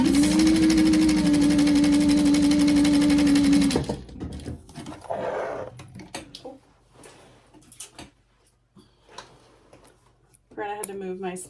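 A sewing machine runs steadily, stitching a seam with a 1/2 inch seam allowance for a fabric gift bag. It hums loud and close for about four seconds, then stops, leaving quiet handling noises and someone speaking.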